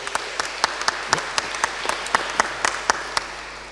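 Crowd clapping at a gala finale honoring Polish schools abroad, an even wash of applause punctuated by rhythmic individual claps, steady and fairly loud.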